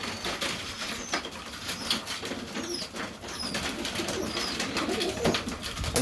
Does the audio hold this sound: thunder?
no